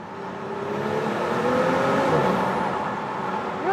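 Audi S5 engine accelerating inside a tunnel with the window down, a steady rising drone that swells and echoes off the walls, heard from the cabin without any talk.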